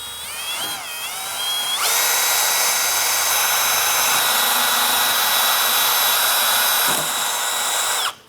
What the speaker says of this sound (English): we're going to clean the grooves with a wire brush. I'm using a wheel.